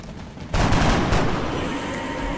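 Gunfire from the turn-based strategy video game XCOM: Enemy Unknown, a sudden loud burst of shots that rolls into a sustained, booming rumble and echo.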